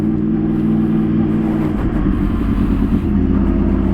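A 2014 Yamaha R1 facelift sportbike engine rumbles steadily while riding slowly, with a loud low drone and a brief rev change midway, close and continuous.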